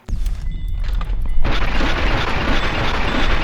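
Enemy gunfire in Fallout New Vegas: a burst of sharp close shots gives way to a sustained loud roar of heavy firing and blasts that keeps going to the end, with no talk.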